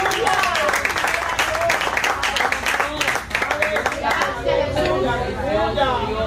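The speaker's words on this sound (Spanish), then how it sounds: "Dale un fuerte aplauso a Cristo." A church congregation claps during a sermon, brisk applause with voices and chatter mixed in, the clapping thinning as talk and murmuring take over toward the end.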